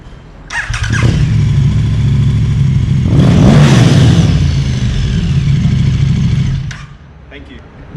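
A Yamaha YZF-125 motorcycle engine revs hard once, loud and close, climbing to a peak and holding before dropping back to idle; brief talk follows.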